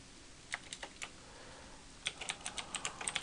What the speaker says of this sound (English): We can just type in some stuff.